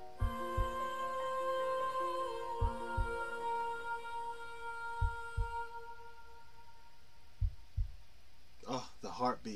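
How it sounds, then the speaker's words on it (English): Deep heartbeat thumps in a studio music recording arrive in evenly spaced double beats beneath sustained layered tones and a melodic line, ending in a brief burst of brighter sound. "Oh, the heartbeats."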